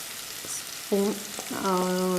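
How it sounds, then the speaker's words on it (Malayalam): A fish curry base of wilting onions sizzles in a pan as turmeric powder goes in, a moderate frying hiss with a few brief tonal squeaks and soft stirring scrapes. "ജസ്റ്റ് ഇതൊന്ന് വാടി വരുമ്പോഴത്തേക്ക് അതിനകത്തേക്ക് നമുക്കൊരു 1/4 ടീസ്പൂൺ മഞ്ഞൾപ്പൊടി ഇട്ട് കൊടുക്കാം."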